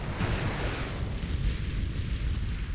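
Heavy turrets on a starship in the space strategy game Sword of the Stars fire in a dense, continuous barrage of booming, rumbling blasts that fill the whole stretch at steady loudness with no pauses.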